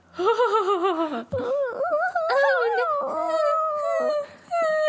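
A dog whimpers close by in long, wavering whines that rise and fall in pitch with brief pauses, loud and continuous.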